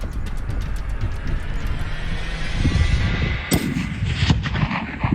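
A single sharp rifle shot, fired at an animal while hunting, cracks loud and close midway through, then echoes and fades against an outdoor background of wind rumble.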